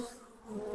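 Honeybees fill an open beehive full of young bees with a faint, steady buzzing hum over a brief moment, with no voices.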